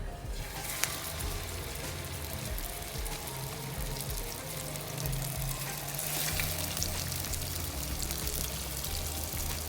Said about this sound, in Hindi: अब मैं इस पर ऑयल डालूँगी।